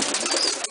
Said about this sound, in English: Of course, there are birds in here which have to be removed.